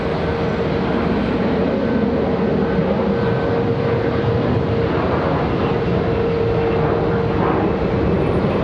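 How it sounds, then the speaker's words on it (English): A Boeing 737 taxis at Charlotte Douglas International airport, giving a steady, broad jet-engine whine and roar that holds evenly throughout at moderate distance. "There's our 737 trying to get in back here."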